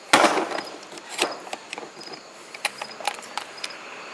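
Parts of an Aero Survival Rifle 9mm being fitted back together by hand, with an opening clack and then a string of small metallic clicks and light rattles close by, with no talk.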